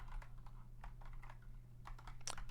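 Steady typing on a computer keyboard while writing code, a close, quick run of soft key clicks with brief pauses and a louder tap near the end, no voices.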